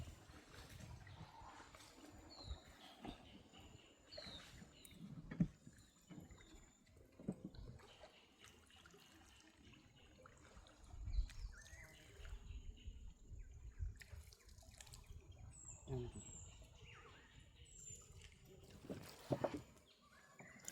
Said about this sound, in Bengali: সেই সাথে সাথে আমরা নৌকাটা নিয়ে যাচ্ছি